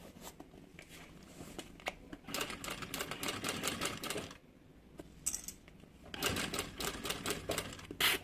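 Sewing machine stitching a fabric bag closed, running in bursts of rapid mechanical stitching broken by short pauses, close and fairly loud.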